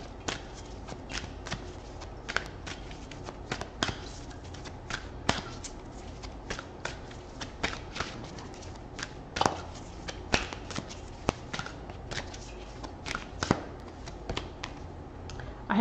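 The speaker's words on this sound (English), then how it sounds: "I'm going to pull out a couple of oracle cards." Oracle cards being shuffled by hand, a fairly quiet run of rapid papery riffles and flicks with irregular sharper snaps, heard close up with no talking.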